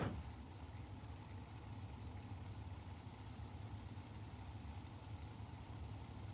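Hot rod drag racing engine idling at the start line, a steady rough low rumble heard at a distance, fairly faint, with no talking.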